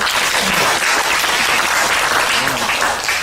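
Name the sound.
audience applause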